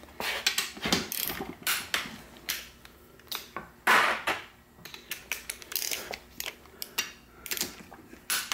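A Sears Craftsman torque wrench tightens gasket bolts on a Muncie 4-speed transmission to 25 foot-pounds: repeated ratcheting clicks come in short bursts, close and fairly quiet, with a louder crunching stroke near the middle and no talking.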